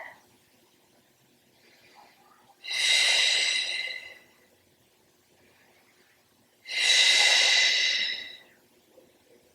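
Two long, loud breaths during a Pilates abs and glutes workout, each a steady rushing exhale of about a second and a half, heard close with quiet pauses between them.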